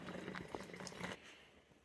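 Apple cider vinegar poured from a container into swing-top bottles, a soft liquid splashing and trickling that runs steadily for about a second before fading into quiet room tone.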